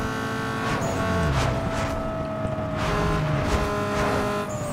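Car engine in the racing game Need for Speed: Underground 2, revving steadily and held high, with a sustained loud drone and a few gear-shift surges across the whole stretch.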